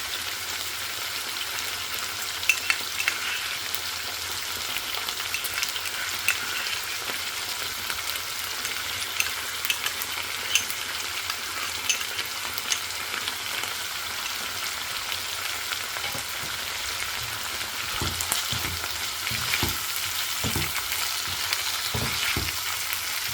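Chicken Manchurian sauce made with tomato ketchup and soy sauce bubbles and fries in a pan with a steady, close sizzling crackle, punctuated by scattered spatula taps and stirring clicks toward the end.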